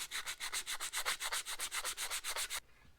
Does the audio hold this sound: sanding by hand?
yes